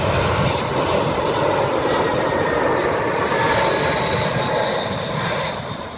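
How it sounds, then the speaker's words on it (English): A JetBlue passenger jet landing at Maho Beach, St. Maarten, passes close overhead as a loud, sustained engine roar that stays steady and broadband for the whole span, easing off only slightly at the end. "No, not really jumbo, but it was a big airplane."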